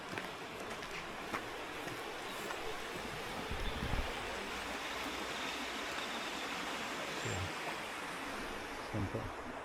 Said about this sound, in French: Là, il y a l'eau qui passe en dessous.